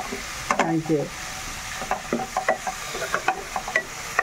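Chicken pasta sizzles in a pan while a utensil stirs it, giving irregular clattering scrapes over a soft, steady frying hiss.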